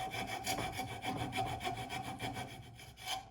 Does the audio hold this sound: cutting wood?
yes